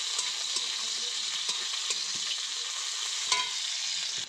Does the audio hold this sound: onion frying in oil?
yes